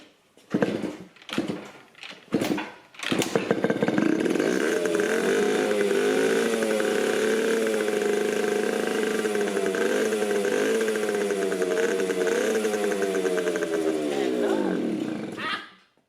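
A vintage Yamaha RX50 two-stroke, five-speed motorcycle sputters through a few short bursts, then catches and runs at a steady, loud, close idle with a buzzy rattling tone before stalling abruptly as it runs out of fuel.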